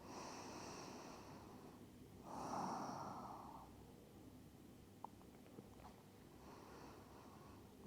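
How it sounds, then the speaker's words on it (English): Slow, deep breaths drawn in and let out through the nose during a quiet yin yoga relaxation, soft close inhales and exhales in a long rhythm, with a few faint clicks and a brief bump at the end. "Just take a couple of breaths here."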